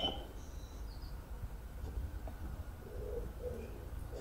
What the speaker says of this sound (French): Ah, les oiseaux, je crois qu'ils vont s'envoler.